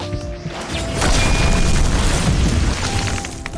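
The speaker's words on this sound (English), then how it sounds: "He broke the ground just by hitting it." In the video game Arcane Odyssey, a weapon strikes and breaks the ground with a loud, booming crash that swells and holds for a moment before fading into rumbling debris.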